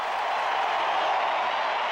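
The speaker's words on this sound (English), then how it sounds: "Lincecum departs to a lusty ovation for the big crowd" A big baseball stadium crowd gives San Francisco Giants pitcher Tim Lincecum a lusty ovation as he leaves the game, a steady, dense roar of cheering and clapping that holds level throughout.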